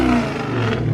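A widebody Scion FR-S engine roars loudly and steadily at close range, a short one-second burst of deep exhaust with no talking.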